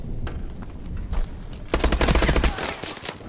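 Loud automatic weapon fire in Call of Duty: Advanced Warfare, a few scattered shots building into a sustained rattling burst near the end, close and dense, with no talk over it.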